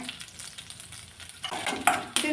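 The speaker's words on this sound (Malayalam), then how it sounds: "ഈ തേങ്ങയൊന്ന് നന്നായിട്ടൊന്ന് മൂപ്പിച്ചെടുക്കാൻ" Grated coconut stir-frying in a pan: quiet at first, then a rising sizzle with scraping and a couple of sharp metallic clinks of a spatula.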